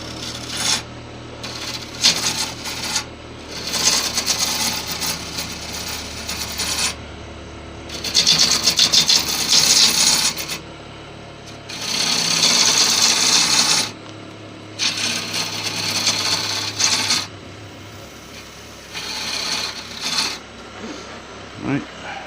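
A gouge pull-cutting the foot of a bowl turned from a badly checked log on a wood lathe: repeated rasping, scraping cuts in several bursts of a few seconds each over a low steady lathe hum.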